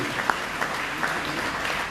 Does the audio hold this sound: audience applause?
yes